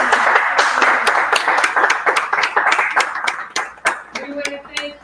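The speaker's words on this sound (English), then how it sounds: "how about a round of applause for" Audience applause at a museum of art talk, a dense burst of clapping from a room of people, loud at first and gradually thinning to a few scattered claps, with a voice speaking near the end.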